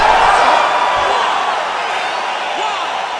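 Dense, roaring arena crowd cheers loudly at the end of a UFC 5 video game fight between Lyoto Machida and Tito Ortiz, a sustained wash of noise easing slightly, with a voice talking over it.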